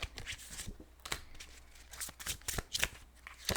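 Tarot cards are shuffled close up, a quick run of crisp riffling snaps and flutters in irregular bursts, with no talking.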